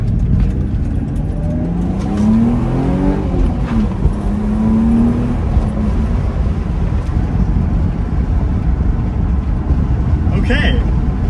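A car driving on a test run after its suspension damping was set two clicks stiffer, with a steady interior engine and road rumble throughout and a voice talking over it early on.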